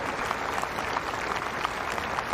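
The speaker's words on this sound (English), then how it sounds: "It's a respectful applause as well." A tennis crowd at a 2023 WTA Cincinnati first-round match gives steady, even applause that fills the whole moment, dense clapping at a moderate level with no cheering or talking.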